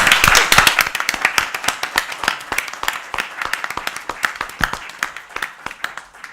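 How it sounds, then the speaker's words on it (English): An audience at a policy forum gives a round of applause, loud at first and then thinning into scattered individual claps as it fades over several seconds. "can we give them a big round of applause?"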